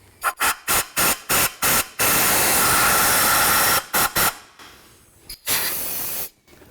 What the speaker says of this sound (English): make sure you blow a little bit of air inside your spark plug holes